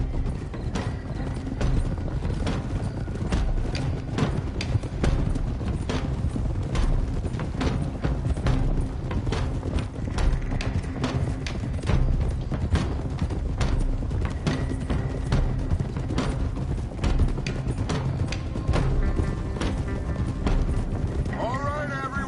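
Horses trotting in the Red Dead Redemption 2 video game, with a steady clip-clop of hooves continuing throughout under game sound and voices.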